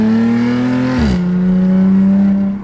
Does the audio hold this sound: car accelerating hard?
yes